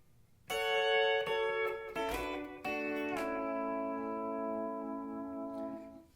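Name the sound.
pedal steel guitar playing a phrase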